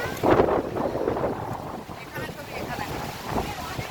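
Wind gusts and buffets near a monsoon-fed waterfall, a broad rushing roar that swells and eases, with some rumbling noise on the microphone.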